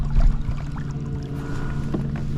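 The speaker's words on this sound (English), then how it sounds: "I hear the straggler boat coming in late, or passing me late" A straggler boat passing by on the California Delta, its engine a low steady hum with wash and wind noise, fairly close and continuous for a few seconds.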